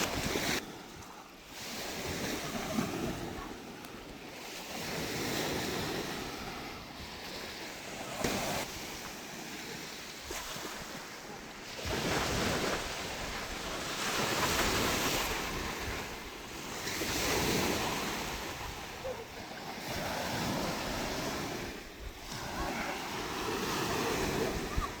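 Surf breaking on a Lake Erie-area beach near Buffalo, a steady roar of waves swelling and receding every few seconds, mixed with gusty wind buffeting the microphone throughout.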